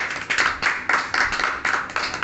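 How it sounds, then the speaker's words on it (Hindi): Brief applause from a small welcoming audience at an Independence Day gathering: about eight distinct clap bursts in an even, fairly close rhythm. "आप सभी की स्वागत के लिए एक बार जबरदस्त ताली बनता है"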